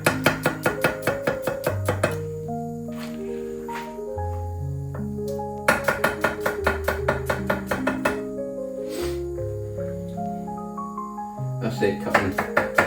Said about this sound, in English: cutting nice thin slices. Same as you do with the shallot